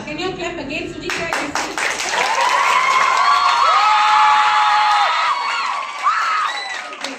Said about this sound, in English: can you clap again, Sujitra?